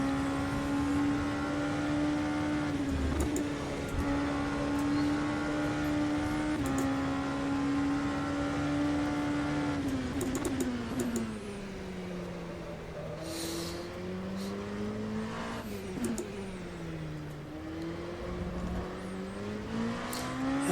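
A race car engine in the rFactor 2 racing simulator drones steadily at high revs, then drops and climbs through gear changes and braking, loud and continuous throughout.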